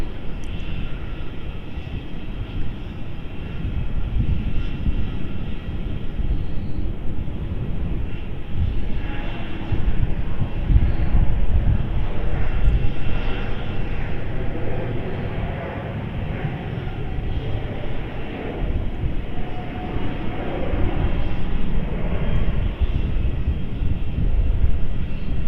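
A Malaysia Airlines Airbus A330neo taking off from Melbourne Airport and climbing steeply, a sustained low rumbling engine roar that rises and falls over the whole stretch, with occasional voices underneath.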